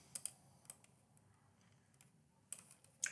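A few scattered computer keyboard keystrokes, quiet and close, with sparse clicks near the start, around the middle and at the end over a low background hum.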